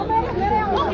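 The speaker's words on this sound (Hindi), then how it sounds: "आप इस भीड़ को देखो।" Crowd of people gathered outdoors, a dense babble of many overlapping voices filling the scene loudly and continuously.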